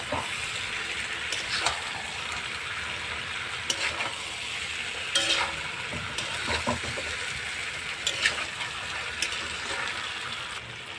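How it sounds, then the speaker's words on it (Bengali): Fried pointed gourd stirred into spice paste in a pan, a continuous sizzle with scraping stirs and occasional sharp clinks of the spatula, close and fairly loud with no talk. "এবার দিব ভেজে রাখা পটলটা দিয়ে একটু কষিয়ে নিয়ে তারপরে জল দিয়ে দেবো।"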